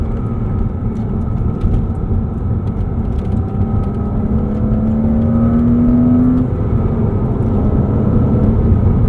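A 2005 Porsche Boxster S with a manual gearbox driving on a bumpy road, its engine a steady loud drone inside the cabin with a rising whine as revs climb in a short fourth gear, continuous throughout.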